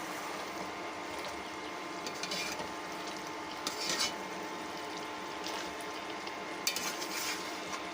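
Jujube (kul) pickle being stirred in a pan over medium heat: steady, soft wet sizzling and bubbling, with light scraping clicks from the spoon at irregular moments, close and fairly quiet with no talk.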